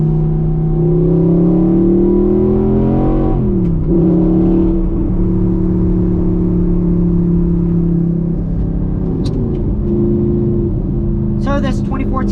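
A 2014 Audi R8 with a 4.2-liter V8 revs while driving, a loud, steady engine drone that climbs, dips and rises again with gear changes, heard from inside the cabin.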